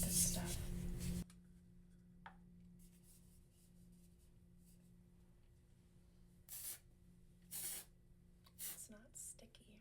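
A few short hissing bursts from a Kevin Murphy do-over hair spray aerosol can, separated by quiet stretches, with soft faint rustling between them.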